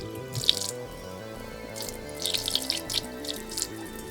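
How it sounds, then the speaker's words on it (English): Water poured from a can into a pressure cooker pot sitting on a trivet, a soft running trickle with a few brief splashes and drips, fairly quiet and alone over low background music. "I'm pouring water halfway up the can."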